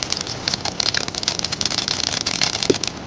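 Mustard seeds sizzle and crackle in hot oil, a dense, steady spitting and popping that stays close and loud throughout, with no talking.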